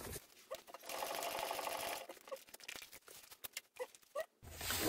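A sewing machine stitches a seam through thick leather on a laptop bag, running in a few bursts of rapid whirring with brief pauses between them, close and fairly loud.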